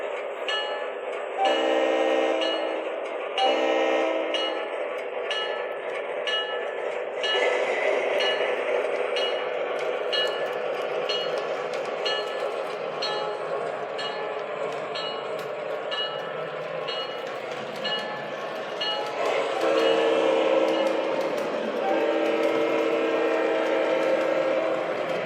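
An MTH RS-3 model diesel locomotive in Lake Superior and Ishpeming livery runs around a layout, giving a steady mechanical hum and rumble with light clinking of the track, fairly constant in level and slightly louder near the end.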